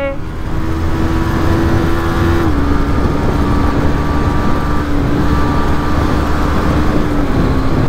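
Motorcycles overtake on a Ladakh road with a loud, continuous engine drone whose pitch shifts slightly as they pass, heard up close with no talk.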